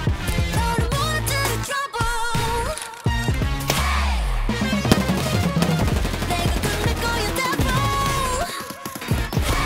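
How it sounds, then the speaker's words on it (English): Gunfire in the shooter game Escape from Tarkov: bursts of rapid automatic shots over a busy, layered game soundscape, loud and near, running almost nonstop with brief gaps and no voices. "Oh, shots."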